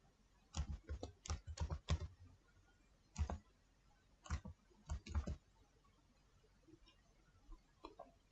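Computer keyboard typing as a business name is entered, heard as short bursts of crisp clicks separated by pauses, fairly close and quiet, with no talking.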